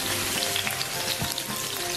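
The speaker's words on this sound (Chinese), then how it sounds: "锅里热油，下葱姜炒香" Scallion and ginger stir-fry in hot oil in a wok before octopus is added, a close, dense sizzle with a few soft stirring thumps.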